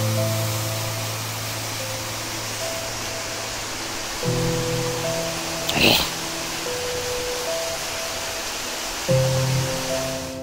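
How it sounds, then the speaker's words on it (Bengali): A waterfall on the Modhukhaiya forest trail gives a steady, even rush of falling water throughout, with soft sustained musical tones layered over it. "মেইন ঝর্ণা, প্রধান ঝর্ণা যেটা। ওই যে পানি খুবই স্বচ্ছ"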